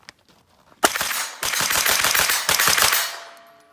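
A Cobalt Kinetics pistol-caliber carbine fires a loud, rapid string of shots, about a dozen sharp reports in under three seconds after one opening shot, close and without speech.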